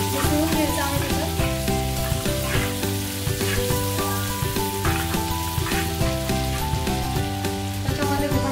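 Cumin seeds sizzling in hot butter for tava pulao: a steady, close frying hiss running continuously under loud background music.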